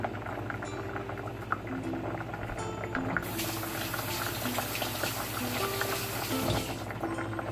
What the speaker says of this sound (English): Let's wash a couple of tomatoes